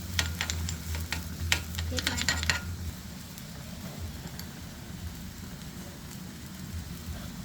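Rice-field crabs stir-fry with roasted chili paste in a hot pan, sizzling loudly with scraping stirs for a few seconds before settling into a quieter steady hiss.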